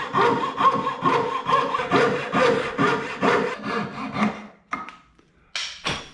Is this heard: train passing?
no